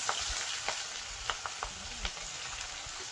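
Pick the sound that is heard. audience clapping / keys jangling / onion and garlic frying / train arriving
onion and garlic frying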